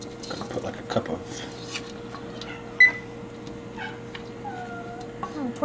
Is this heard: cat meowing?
yes